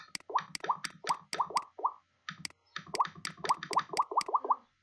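Rapid button click sounds from an Android calculator app, a quick run of crisp ticks with a short pause near the middle before a second burst of clicks.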